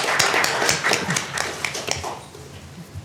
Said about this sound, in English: That applause was for the pizza puffs.